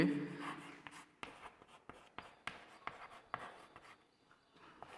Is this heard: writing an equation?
yes